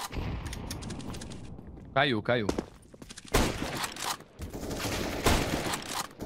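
Bursts of gunfire in an online multiplayer shooter, with rapid volleys and single shots crackling between stretches of gamers' voices talking over the action.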